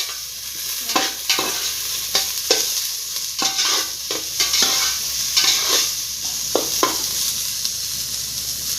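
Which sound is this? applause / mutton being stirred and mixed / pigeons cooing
mutton being stirred and mixed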